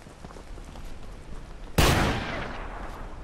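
A single loud gunshot in the hunting video game Hunting Simulator cracks out of quiet ambient background, then trails off into a decaying echo.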